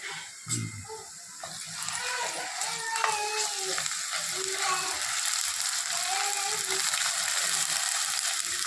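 Onions frying in a pan with ginger-garlic paste stirred in, for a prawn curry: a steady sizzle with clinks and scraping of a spoon against the pan, near and continuous.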